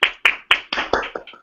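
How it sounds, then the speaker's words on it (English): A person claps their hands about seven times in quick succession, close and loud, each sharp clap decaying fast with the final few softer. "Where's the clapping?"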